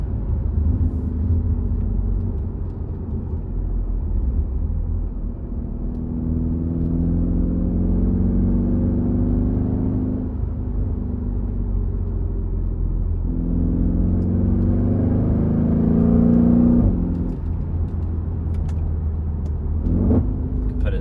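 A 2015 Mercedes E63s AMG wagon drives at part throttle with a deep, steady engine rumble from inside the cabin, and the pitch rises and falls as the car downshifts from fifth to fourth to third.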